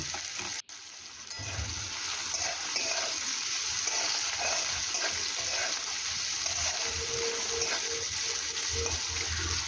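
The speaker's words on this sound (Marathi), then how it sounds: "हे छान असे फ्राय होत आहे" Bitter gourd (karela) pieces frying in a pan give a steady, continuous sizzle throughout, close and fairly loud, with a short dropout near the start.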